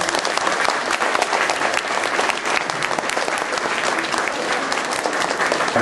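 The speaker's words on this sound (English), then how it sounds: "a big round of applause" At a photo exhibition launch, an audience claps loudly and continuously, a dense unbroken patter of many hands sustained for about six seconds with no voices on top.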